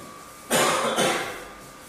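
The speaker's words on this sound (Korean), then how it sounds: "죄송합니다. 감기 걸려서 기침이 나네요." A person with a cold coughs once, a loud, harsh burst followed by a second shorter cough, standing out against otherwise quiet room tone.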